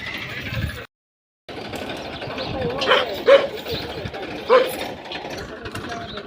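A dog gives a few sharp barks near a tractor on a village farm, heard over a steady engine hum and nearby voices, with a brief dropout early on.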